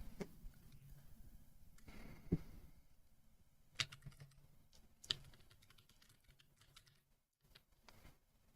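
A computer keyboard clicks in short, irregular bursts of typing, quiet and close, separated by a few sharper isolated key taps and brief pauses in an otherwise hushed room.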